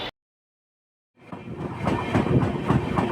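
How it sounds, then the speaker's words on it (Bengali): Kandari Express train running at about 105 km/h, heard from on board: a sudden rise from silence into a loud, steady roar of wheels and carriage rattle with rhythmic clatter. "আমাদের ট্রেন কিন্তু প্রায় ছুঁয়ে ফেলেছে 105 কি 6 গতিবেগ নিয়ে চলছে"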